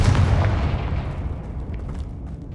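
Confringo blasting spell in Hogwarts Legacy, a loud booming explosion with a heavy low rumble that slowly decays into scattered crackling debris.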